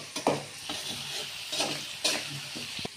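Onions and curry leaves fry in a pan for egg rice, a close, steady sizzle with a few stirring scrapes over a short stretch.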